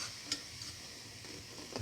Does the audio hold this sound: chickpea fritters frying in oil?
yes